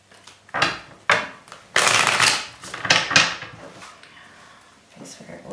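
Tarot cards get a quick shuffle close up, with several bursts of crisp riffling and flicking, some loud and some softer, separated by short pauses and no talking.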